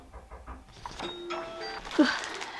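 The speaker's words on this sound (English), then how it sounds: "That was a doorbell" A doorbell chimes indoors, a soft ding-dong tone rising over faint background noise, near and moderately loud.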